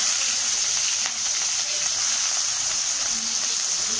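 Capsicum sizzles in hot oil in a pan, a steady bright hiss of frying that stays loud and even throughout with no pauses, and nothing else is heard over it.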